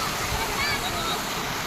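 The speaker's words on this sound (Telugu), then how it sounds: "ఇది వాటర్ చాలా ఫ్లో అవుతుంటుంది," Water rushes steadily and loudly at Chaparai waterfall in Araku, a dense, continuous roar filling the whole moment.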